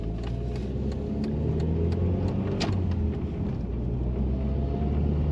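Stage 3 1993 Ford Escort RS Cosworth on the move, with a steady close engine drone and rumble inside the cabin and a brief shift in tone midway as a gear changes.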